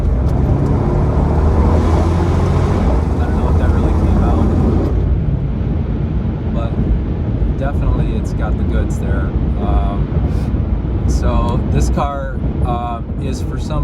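A 2015 Alpina B6 Gran Coupe's engine roars loudly under acceleration from the driver's seat, a dense low drone building for several seconds, then easing into steady cabin road and wind noise with a few intermittent voices over it.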